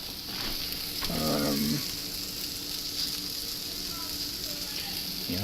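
Eggs for an omelet sizzle and crackle steadily in a pan, close and moderately loud, with a brief voice partway through.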